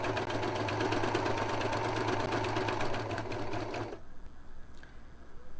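A serger sewing machine stitches off the edge of a piece of fabric with a steady, fast mechanical whir. It runs close and continuously for about four seconds, then stops, leaving quiet room tone.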